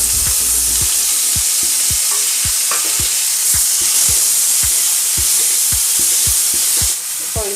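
Finely chopped onion and tomato fry in hot oil with cumin seeds, giving a continuous loud sizzle broken by regular scraping stirs of a spoon, close up and without speech.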